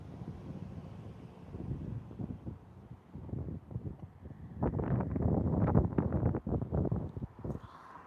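Wind gusts buffet the microphone in low, rumbling surges that grow stronger and rougher halfway through, with no voices.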